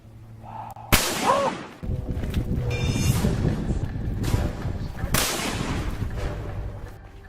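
Sniper gunfire in a war short film: a sharp close crack followed by echoing blasts and rumbling, with a second loud report later.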